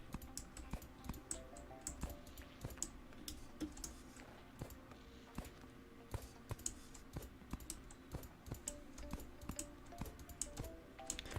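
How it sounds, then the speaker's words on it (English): Mouse buttons clicking steadily on a computer, a dense run of close, quiet, sharp ticks with no one talking. "the ASMR of my mouse clicking"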